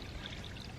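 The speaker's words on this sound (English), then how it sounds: "You seem like the water slowed down." Water from a farm ram pump pouring steadily into a bucket, a close, soft, even splashing stream with no voices over it.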